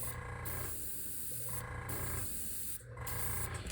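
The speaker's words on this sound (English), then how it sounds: "I'm going to let a little overspray go out the back." An airbrush sprays paint in bursts, a hissing spray cutting on and off about three times with steady compressor noise between.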